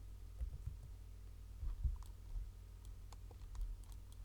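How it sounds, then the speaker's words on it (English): Keys pressed on a computer keyboard in an animation setup, a scattered run of light, close clicks and taps at an uneven pace over a low background hum, no voices. "I'm going to hit S on the keyboard"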